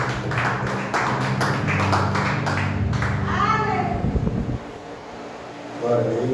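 A church congregation clapping, a dense run of claps for about three seconds that stops abruptly, followed by low background noise and a few spoken words from a person near the end.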